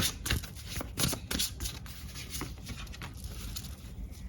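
Tarot cards being shuffled and drawn from a deck, a quick series of soft close riffling flicks and papery patters that grows quieter and more scattered toward the end.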